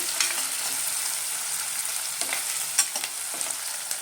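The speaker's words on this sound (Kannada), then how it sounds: "ಸ್ವಲ್ಪ ಫ್ರೈ ಆಗಲಿ." Aloo capsicum gravy frying in a pan, a continuous bright sizzle with occasional soft scrapes and knocks of a spoon stirring, steady and close with no voices.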